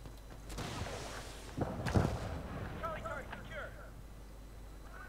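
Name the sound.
grenade explosion in video game Medal of Honor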